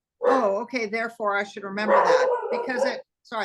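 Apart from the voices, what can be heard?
dog barking in the background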